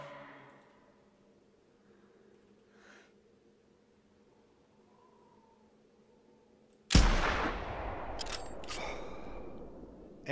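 A .405 lever action rifle fires once at a moose in the hunting game theHunter Classic: a quiet outdoor ambience, then a single loud, sharp blast followed by a long rolling echo and trailing rumble.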